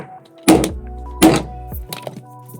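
A tough, gun-style hard plastic lightsaber case is banged against a table, giving two loud, close hollow thunks about three-quarters of a second apart, with lighter knocks and rattles after.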